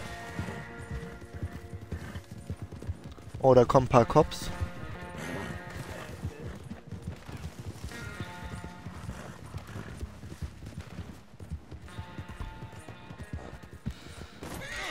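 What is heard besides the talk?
horse hooves galloping in video game Red Dead Online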